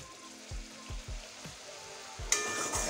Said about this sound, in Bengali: মশলাটা ভাজা হয়ে গেছে এবং মশলার থেকে তেলও ছাড়া শুরু হয়ে গেছে